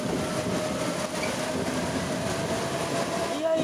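A train at a rural railway station rumbles steadily nearby, with a continuous low rolling drone and faint rail hum throughout.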